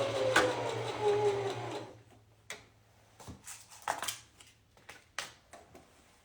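A sewing machine stitches a 3/8 inch seam in a steady, louder run of needle noise, then gives way to scattered soft clicks and fabric handling nearby.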